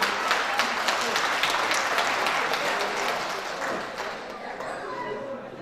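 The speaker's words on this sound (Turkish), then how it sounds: "Ben Aysel Hanım için tekrardan kuvvetlice bir alkış rica ediyorum sizlerden." Wedding guests give a strong, sustained round of applause at a family wedding ceremony, a dense wash of many hands clapping nearby that tapers off slightly toward the end.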